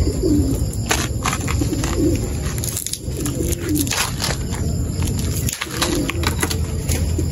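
Racing pigeons coo repeatedly in soft, low, throaty calls close by, over a steady hiss of background noise.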